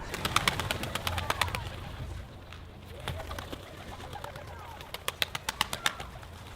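Domestic pigeons kept in a loft coo repeatedly nearby, soft throaty calls overlapping with sharper bird chirps and faint rustling in the background.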